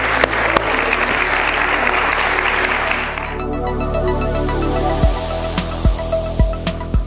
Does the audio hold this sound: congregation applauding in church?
yes